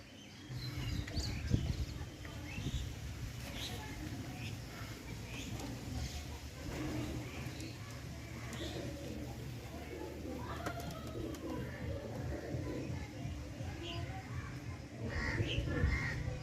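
Pigeons of a Lambari breed coo in a loft, a steady low murmur running through the whole stretch amid crowing and other bird calls, with someone talking over it for most of the time.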